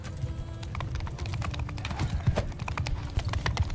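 Rapid clip-clop of horse hooves from Mount & Blade II: Bannerlord, a steady galloping patter that runs the whole time at close, even loudness with no talk over it.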